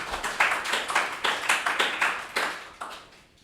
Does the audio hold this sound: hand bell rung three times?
no